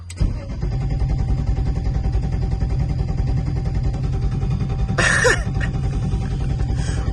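A turbocharged M50 engine in a BMW E30 cranks continuously without catching, a loud, close, steady rhythmic churn with a brief higher burst partway through.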